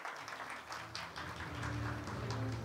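Audience applause welcoming a speaker to the stage at a media and artificial intelligence research event, a fairly quiet, steady patter of clapping from a seated crowd that continues throughout without talk.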